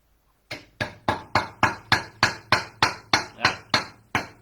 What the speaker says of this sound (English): we just pound that sucker into the hole with my handy dandy hammer